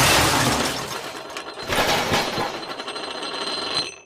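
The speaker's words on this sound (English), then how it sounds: "Neville, in complete terror, crashes into a suit of armor that is in the trophy room." A suit of armor crashes to the floor with a loud metallic shattering and clattering that rings on and then cuts off, as a dramatic audiobook sound effect.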